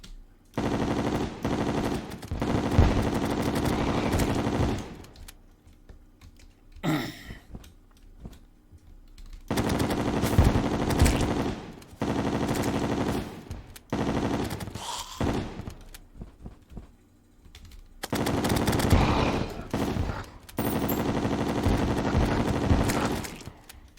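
Rapid bursts of automatic gunfire from chlorophyte bullets during a hardcore Master Mode run of Terraria, several sustained volleys of fast shots broken by short pauses, loud and close.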